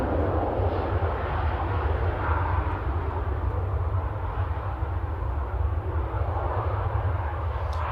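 An airliner taxis at Manchester Airport, its engines producing a steady, even rumble and whine that holds at moderate distance throughout with no voices.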